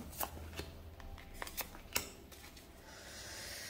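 Tarot cards being handled and laid out, a few soft, quick slaps and rustles spaced through a short quiet stretch, close and faint.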